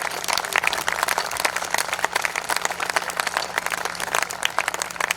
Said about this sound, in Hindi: दोनों हाथ ऊपर उठाइए, तब तक ताली बजाइए जब तक डॉक्टर सुरेंद्र दुबे ना